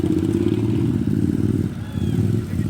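A loud, steady small-engine drone with a buzzing, revving tone from a racing lawn tractor at the French ride-on mower championship in Thaumiers, running continuously, dipping briefly before picking up again.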